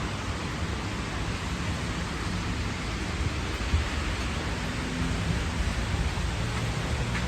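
Steady rain falls continuously in a dense, even wash, with a deep rumble underneath that may be distant thunder. No voices are heard over it.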